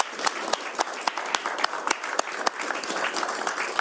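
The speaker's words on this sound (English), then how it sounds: "One more last round of applause for everybody who came." Crowd applause at a state Senate Republican caucus news conference, a smaller gathering with distinct individual claps in an uneven rhythm, fairly close and steady across the whole stretch.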